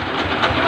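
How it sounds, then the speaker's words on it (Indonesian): A dompeng diesel engine driving a flour mill runs steadily after starting, a close, loud, continuous rumbling drone with no pauses. "Nah itulah cara tutorial penyalaan mesin dompeng."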